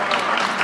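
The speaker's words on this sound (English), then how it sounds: "Yes, clap for that" A brief burst of audience applause at a UN forum on people of African descent, dense and fairly loud clapping heard on its own for under a second.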